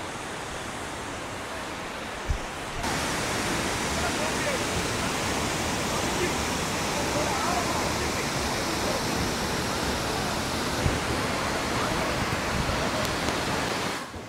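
Roar of Ain Kour waterfall in Salalah, Oman: a steady, dense rush of falling water filling the whole clip, loud and continuous with no break apart from a slight lift after a brief knock near the start.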